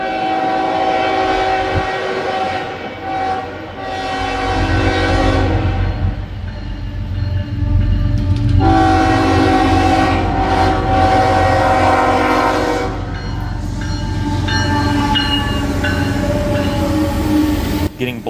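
A freight train passes trackside at Terre Haute, Indiana, its locomotive horn sounding loudly in several long blasts over the rumble and clatter of rolling cars, close and powerful throughout.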